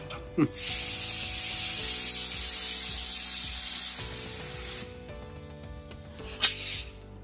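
A spray gun hisses steadily for several seconds, spraying paint on C6 Corvette ZR1 parts, a loud continuous spray that cuts off, followed by quieter background noise and a brief burst.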